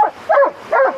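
A small dog barks three times in quick, loud, close yelps, alone with no talk.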